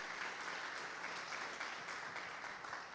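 A church congregation breaks into steady, dense applause, a continuous wash of many hands clapping at an even level, fairly distant and soft, with no voices standing out.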